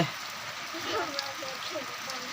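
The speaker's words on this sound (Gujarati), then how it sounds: "બહાર બારણે રે તો આવો વરસાદ છે" Steady hiss of rain falling, with faint muffled voices underneath.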